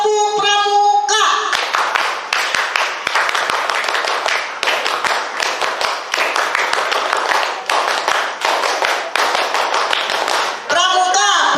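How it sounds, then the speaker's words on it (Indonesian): A group in scout uniforms claps the rhythmic Pramuka scout clap, sharp in-unison hand claps in repeated patterned bursts with brief pauses, close and loud, with children's voices chanting before and after. "coba 3 kali tepuk pramuka."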